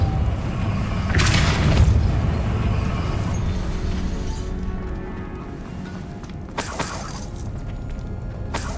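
A Depulso spell blast in the Hogwarts Legacy video game: a booming, crashing burst near the start, then a second sharp crash later, over a steady low rumble of game ambience.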